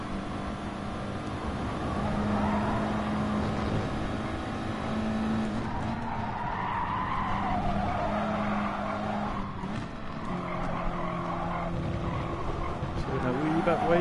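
Race cars in the Gran Turismo Sport video game roar steadily with engine drone and squealing, skidding tires throughout. A voice seems to talk over the racing.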